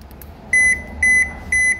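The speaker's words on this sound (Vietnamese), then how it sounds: "Rồi, cái bíp bíp này" A Toshiba washing machine sounds three identical high-pitched electronic beeps, evenly spaced and loud against a quiet room hum.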